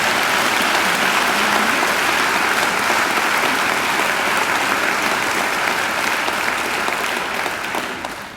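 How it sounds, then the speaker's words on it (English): Sustained applause from a large crowd at a university graduation ceremony, dense and steady throughout, easing off slightly at the very end. "I think she deserves another great round of applause."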